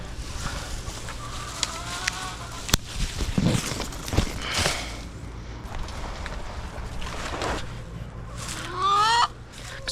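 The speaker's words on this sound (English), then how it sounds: "Look how much happier these chickens are." Several chickens cluck and squawk nearby at irregular intervals, with footsteps and rustling movement in between.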